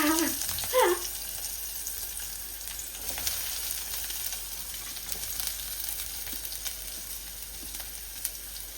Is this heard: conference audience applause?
no